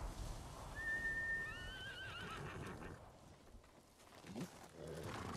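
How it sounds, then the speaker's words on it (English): A horse in the video game Ghost of Tsushima whinnies once, a rising then falling neigh, followed by hoof clops and a low rumbling background; no voices. "He a good horse"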